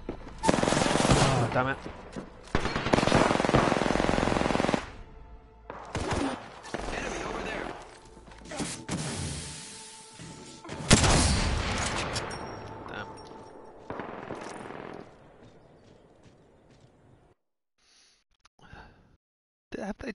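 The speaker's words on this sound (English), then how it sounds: "Have they changed the sound on the G7 Scout? I don't remember it sounding quite like that." Sniper fire from a G7 Scout rifle in Apex Legends, heard as loud, sharp cracks in bursts that are mixed with game effects, with a brief frustrated voice over them and quieter gaps toward the end.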